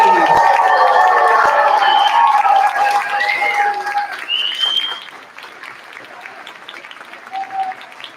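An audience at a school concert applauds first graders on stage, loud sustained clapping with some cheering that tapers off toward the end, while a few voices ring out over it.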